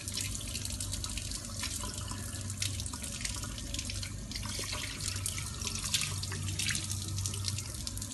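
Cold tap water runs steadily into a kitchen sink while a quail is rinsed under it, a continuous close splashing hiss with faint drips and no talking.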